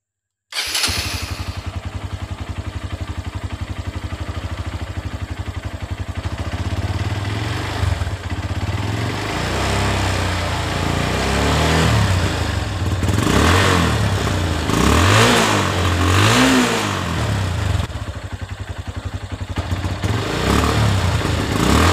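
Enduro motorcycle engine fired up right after an oil change, catching quickly then idling with a rough clatter, with several throttle blips and revs midway before settling back, loud and close.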